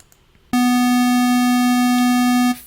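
A steady electronic synth square wave tone with a buzzy, hollow timbre starts abruptly, holds for about two seconds, then cuts off.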